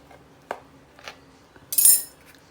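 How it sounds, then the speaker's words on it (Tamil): A knife cuts through a soft plum cake steamed in an idli pot, giving a few faint, brief taps and scrapes against the vessel, then a short louder scrape near the end. "இப்போது நம்ம கட் பண்ணலாம்"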